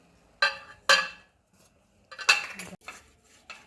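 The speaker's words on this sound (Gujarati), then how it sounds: "જેમાં પણ જેલીને સેટ કરવી હોય તે વાસણને આપણે ઘીથી ગ્રીસ કરી લઈશું" A metal vessel is greased with ghee while setting up an orange jelly, giving a few separate clinks and scrapes of metal in a quiet kitchen, two sharp knocks first and then a longer cluster of clattering touches.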